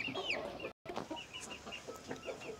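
A flock of young chickens, five months old and of Carioca and white types, clucks nearby in scattered, chattering calls, broken by a brief moment of silence, with no voices present.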